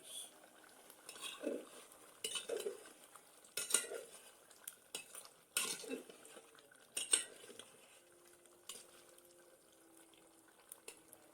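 Chicken bhuna curry is stirred in a pan as a quiet, close sequence of metal spoon scrapes and clinks, broken by short pauses, with a faint sizzle underneath.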